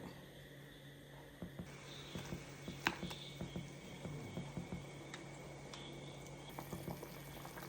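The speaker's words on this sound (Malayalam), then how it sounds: "മസാല ഇട്ടതിലോട്ട് നമ്മൾ നല്ല പുളിവെള്ളം ഒഴിച്ച് വെച്ചിട്ടുണ്ട്. ഇത് തിളച്ച് കഴിയുമ്പോഴേക്കും നമുക്ക് മീനിടാം." A tamarind-water masala for a Kerala fish curry bubbles at a steady boil, with soft irregular pops and blips over a constant low simmer, close and fairly quiet.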